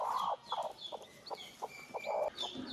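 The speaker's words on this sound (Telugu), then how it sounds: "ఇక 4 కోళ్ళు ఇవి కొత్తవి" Free-range country hens on a small Telugu poultry farm cluck in a series of short, close, repeated calls with brief pauses between them, with no one speaking.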